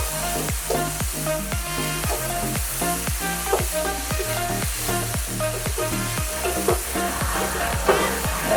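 Sweet and sour prawns with vegetables and vinegar cook in a hot pan, giving a continuous loud sizzle broken by quick rhythmic stirring and scraping strokes from start to finish.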